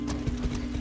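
Horse hooves clip-clop steadily in a quick riding gait in the Far Cry 6 video game, close and continuous over a low engine-like hum.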